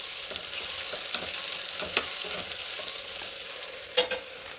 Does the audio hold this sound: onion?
yes